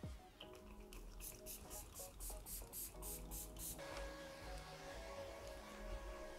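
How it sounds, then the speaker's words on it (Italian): A makeup setting spray fires a series of quick hissing pumps, about a dozen short bursts in a row, fairly faint, followed by a softer lingering hiss. "Ho comprato questo spray appunto fissante."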